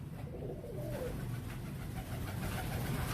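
Soft, low cooing of Zard Ambarsari pigeons sits faintly under a steady wash of broadband background noise, with no talking.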